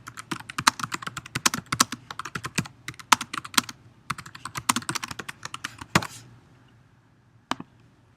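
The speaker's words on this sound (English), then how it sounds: "I would type in my vocabulary words" Rapid, steady typing on a computer keyboard while vocabulary words are entered for a lesson, crisp close keystrokes in a continuous run that stops near the end, followed by a single final key tap.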